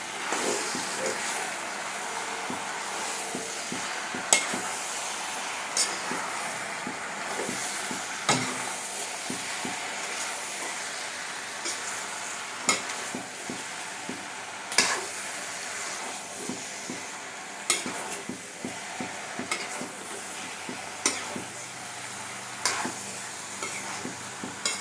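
Fried potatoes are stirred into jackfruit masala in a hot pan, with a steady sizzle and repeated scrapes and stirs throughout. No one speaks.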